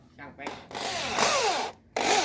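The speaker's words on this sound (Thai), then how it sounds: "ก็จะต้องทำการเจาะรูเพื่อที่จะทำการฝังหัวไว้นะครับ" A power drill bores screw holes for countersunk screw heads in wood while building a wooden staircase, heard as several loud, close bursts of whining motor and grinding bit, separated by short pauses.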